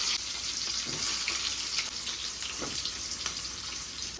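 Small shallots fry in oil with popped mustard seeds and curry leaves, giving a soft continuous sizzle with occasional stirring scrapes, fairly quiet and without speech.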